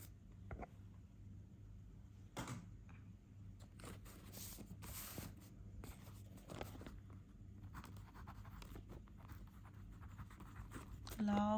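Chalk or marker writing equations on a board during a physics lesson on elastic collisions, with soft scratchy strokes in short bursts under a lecturer's talk.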